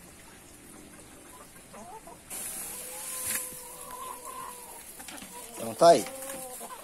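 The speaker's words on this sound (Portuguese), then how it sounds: "As galinhas no milho hidropônico." Chickens cluck softly while feeding on hydroponic corn fodder, the clucks close and intermittent, with someone speaking briefly over them.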